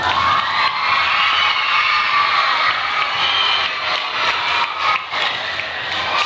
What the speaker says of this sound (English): Give them one last round of applause.